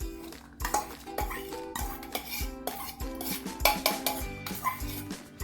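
Chopped onions tipped into a bowl in a home kitchen while masala is prepared, giving a run of close clinks and scrapes of utensils against the dish, with repeated sharp knocks over a low steady background and no talking.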